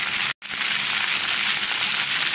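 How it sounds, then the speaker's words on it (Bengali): Raw mango pickle sizzling and frying in a pan while being stirred, a steady hiss broken by one brief gap near the start, with no talking. "এখানে 2-3 মিনিট এভাবে নেড়ে নিচ্ছি"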